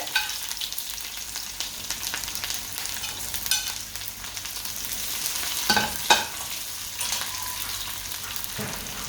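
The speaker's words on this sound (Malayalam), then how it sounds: "കടുക് പൊട്ടിക്കിടങ്ങുമ്പോൾ ചുമന്നുള്ളി എറിഞ്ഞെടുത്തത്" Shallots fry in hot coconut oil with mustard seeds, giving a dense, continuous close sizzle with occasional pops and a few louder stirring scrapes.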